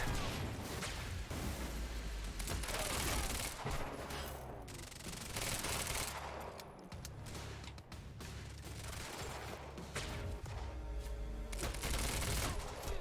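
Video game gunfire from Quantum Break, shooting at explosives during combat: a dense, continuous barrage of rapid shots and bursts with rumbling impacts, heard mid-distance at low level with no talking.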